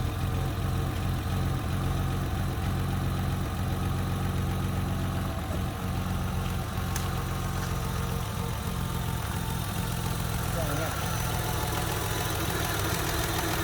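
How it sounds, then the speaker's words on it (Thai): A 1993 Opel car engine idles smoothly at close range, a continuous low even rumble with a steady pulse and no speech over it. "เครื่องยนต์วิ่งนิ่มมากๆเลยนะครับนี่นะครับ"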